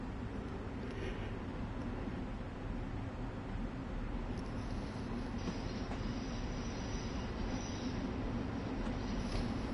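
A Long Island Rail Road train passes in a snowy Train Simulator scene, giving a steady low rumble of rolling wheels with faint squeals, moderately distant and unbroken, with no talk.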